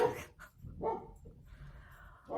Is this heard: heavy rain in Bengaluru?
no